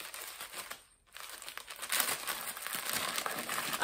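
Cream-colored paper being unwrapped in a basement in Bulgaria, soft close crinkling that pauses briefly, then grows into a steadier, louder rustle, with no talk.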